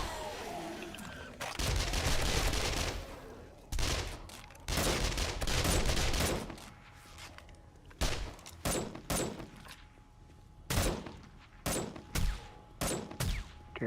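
Automated house turrets firing in a video game: loud sustained bursts of gunfire, then a run of sharper separate shots in quick succession.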